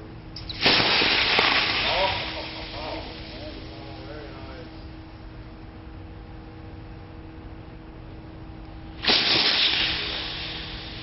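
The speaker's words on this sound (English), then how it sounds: "You just saw the successive venting of the third and fourth cells." Laptop battery pack cells venting and burning in a fire demonstration, with violent eruptions and flames; a loud roaring hiss bursts in, settles into a steady burning rush, then a second loud venting burst erupts near the end.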